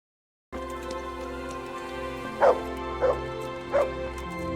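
Three short dog barks ring out at steady intervals over a constant hum of ambient game music and background noise in Kingdom Come: Deliverance, moderately close and distinct.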